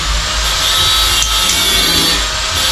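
A cutter boring a hole through a part during carbon fiber skinning gives a loud, steady, harsh whirring grind that holds without pause for the whole stretch, with no talking.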